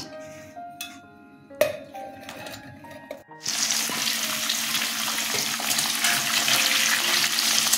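Katla fish goes into hot oil in a pan; after a few quiet clinks, a loud, continuous sizzle of frying breaks out abruptly and holds steady, close and bright.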